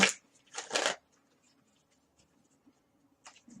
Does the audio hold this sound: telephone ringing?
no